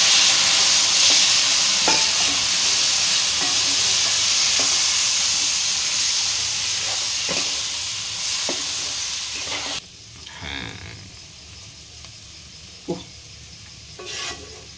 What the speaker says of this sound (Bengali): এইভাবে আমি জল দিয়ে দিয়ে আরেকবার একটু জল দেবো আর ভেজে নেবো